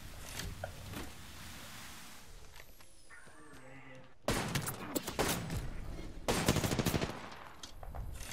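Bursts of rapid automatic gunfire in a shooter video game, loud rattling volleys from about four seconds on, with quieter scattered shots and game effects before.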